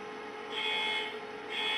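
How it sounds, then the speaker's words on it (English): An electronic alarm tone from a model SD70 locomotive starting up sounds twice in steady pulses over a constant mechanical hum, fairly loud and close. "Listen to this alarm as it starts up."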